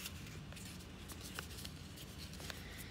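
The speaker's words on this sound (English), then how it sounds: "And then again, folding it into a smaller triangle." Quiet, close crinkling and creasing of paper, with a few crisp presses as it is folded over.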